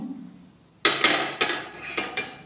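Chopped shallots tipped into a pan of white sardine chilli curry, a sudden rattle followed by four or five sharp metallic scrapes and knocks of a utensil against the pan, close and clear.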